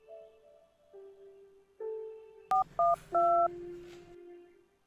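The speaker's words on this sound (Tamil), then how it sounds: "ஃபோன் போடு" Telephone keypad tones ring out clearly as a number is dialed, a few short distinct beeps after a steady dial tone, fairly close and loud with no talk over them.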